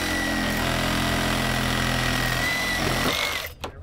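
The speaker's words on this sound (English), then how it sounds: "Let's cut this with the sawzall so you can unload this." A Sawzall reciprocating saw cutting through a Toyota's steering during a vehicle recovery. It gives a loud, steady, droning buzz that cuts off abruptly just before the end.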